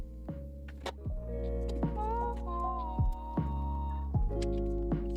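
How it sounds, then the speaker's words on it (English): A thermal printer runs in a quiet room, making a whirring motor hum broken by regular clicking pulses roughly once per second across several feed cycles. "I have a thermal printer that prints this stuff out now."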